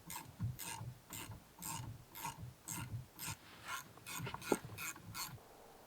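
Bolts being tightened on an Iveco Daily campervan with a ratchet, producing a steady series of about a dozen rhythmic rasping clicks, close and fairly quiet, with no voices.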